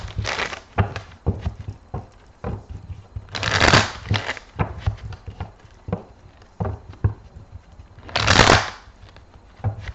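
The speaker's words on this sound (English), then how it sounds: "let me just give these a shuffle" Tarot cards riffled and shuffled in bursts, with softer rustles and taps in between, close and fairly loud.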